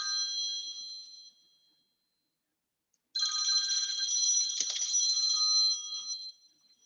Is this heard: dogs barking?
no